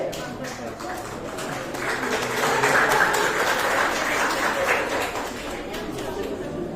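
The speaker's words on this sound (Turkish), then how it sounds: "Alkışlarla uğurluyoruz öğrencilerimizi." An audience at a summer science, engineering and technology camp certificate ceremony applauds students, a steady wash of clapping that builds in the middle and softens toward the end, with some chatter mixed in.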